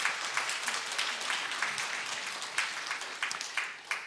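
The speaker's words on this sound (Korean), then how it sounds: "우리 서로에게 환영의 박수 함께 드리도록 하겠습니다" A church congregation at a Thanksgiving Sunday combined service claps to welcome one another, with steady, moderately soft applause and a few sharper claps near the end.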